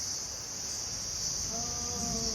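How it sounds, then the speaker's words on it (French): A gecko gives a repeated chirping call in the evening over a constant high insect-like drone, with a series of short clicks toward the end. "Et moi je pensais vraiment que c'était un oiseau qui faisait ce bruit, mais non, c'est un gecko."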